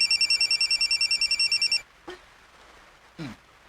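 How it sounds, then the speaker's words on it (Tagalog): A telephone rings with a rapid electronic trill in a quiet room, several pulses over about two seconds, then stops; two short faint noises follow. "Nanawag pa si Ma'am Agnes? Hello"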